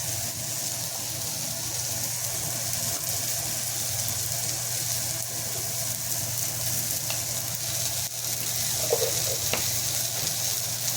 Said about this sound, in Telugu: తర్వాత కొద్దిసేపు టొమాటో, చిల్లీ అవన్నీ ఫ్రై చేసుకున్నాక